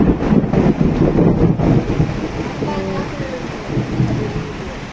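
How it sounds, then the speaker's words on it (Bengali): Rain falls steadily while thunder rumbles low and heavy through it, with wind gusting across the microphone and a voice heard briefly partway through. "এই যে বৃষ্টি আইছে"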